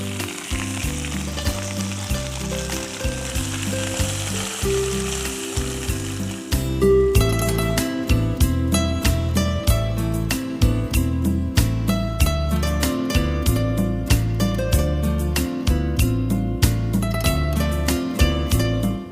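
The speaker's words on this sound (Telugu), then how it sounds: "పోపు అంతా కూడా అలా వేసేసుకున్నాం." Tempering for a chicken kheema fry pickle crackles and sizzles in hot oil, a dense, continuous spitting hiss that grows sharper and louder midway as more goes into the pan, with no talking.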